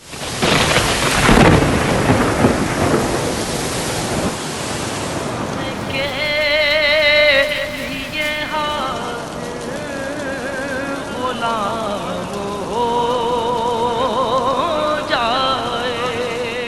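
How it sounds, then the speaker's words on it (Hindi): Heavy rain and thunder in Saudi Arabia, with a loud rolling rumble of thunder first, followed by steady rain as a voice speaks over it. "सऊदी अरब के मुख्तलिफ इलाकों में बारिश पिछले हफ्ते से जारी है"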